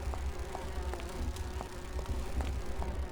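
Sea bees buzzing in the video game Grim Fandango: a steady, continuous insect drone with a faint tonal hum, holding at an even level for the whole stretch with no voices.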